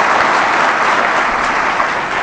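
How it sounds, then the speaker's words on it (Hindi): Listeners at a weekly seminar with a youth motivator break into applause, a loud, dense, unbroken roar of clapping heard close up for its full length. "ताली तो मार दिया।"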